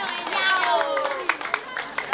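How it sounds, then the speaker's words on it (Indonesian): Applause for the Himmah NW Pancor qasidah group at a qasidah competition in Selong, broadband clapping from a crowd with sharp individual claps toward the end, mixed with voices and a sustained tonal voice fading early on. "kita berikan tepuk tangan ya yang meriah atas penampilan dari Himmah NW"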